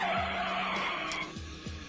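A brake skid sound effect: a loud, sustained tire screech slides down in pitch and trails off over about two seconds, with no voices.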